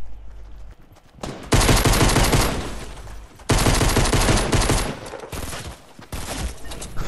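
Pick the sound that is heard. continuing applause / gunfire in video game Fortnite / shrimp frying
gunfire in video game Fortnite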